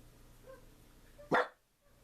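A single sharp bark from a small dog, fairly close, breaking a quiet background.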